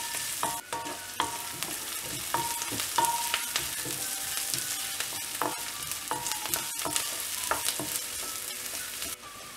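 Onions and green chillies sizzle in a pan for a quail egg and prawn curry, with a constant fry hiss and frequent clinking, scraping stirs throughout, close and clear.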